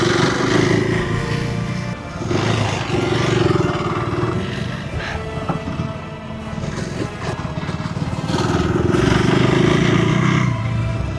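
A KTM 350 Adventure motorcycle rides around a test track at Eco Creek Pailan, its engine loud and near, swelling and easing as the rider accelerates and backs off over several seconds.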